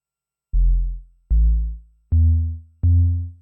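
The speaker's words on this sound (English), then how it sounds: "touching the keyboard triggers the envelope and sets the pitch of the complex oscillator, and we hear the soft tone of a sine wave" Four soft Buchla Music Easel synthesizer sine wave tones play in succession, each starting sharply and fading smoothly, low and pure, with silence before the first.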